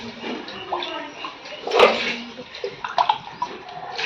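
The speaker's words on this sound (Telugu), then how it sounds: "4 గ్లాసులు నీళ్ళు పోస్తుంది." Four glasses of water poured into a pot of chicken pulao being cooked over a wood fire, splashing and gurgling in short bursts amid faint background chatter.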